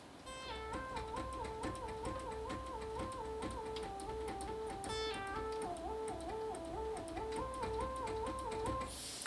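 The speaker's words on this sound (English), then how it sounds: "the little synth sound is going to sound like this" A bright synth melody bounces between a few notes in a repeating pattern, layered over a steady rhythmic backing with ticking percussion.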